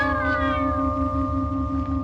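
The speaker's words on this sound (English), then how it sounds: "What's that racket? Just cats." Several cats meow and wail in a layered, continuous chorus close by, their drawn-out cries overlapping for the whole stretch in a quiet village inn setting, with no one talking.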